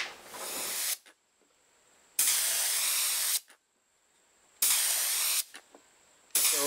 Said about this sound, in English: I'm going to begin to spray some glaze on these two pieces